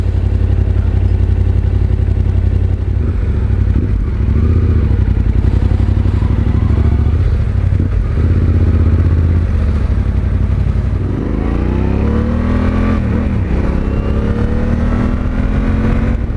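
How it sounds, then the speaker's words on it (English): A 2020 Yamaha Tenere 700 motorcycle with an aftermarket Akrapovic exhaust rumbles loudly and steadily up close, its engine note rising and falling as it revs and pulls, with no voices. "It does not have stock exhaust, so it does sound a little bit more rumbly than the OEM"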